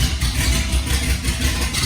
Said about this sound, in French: Là, c'est le bruit des véhicules.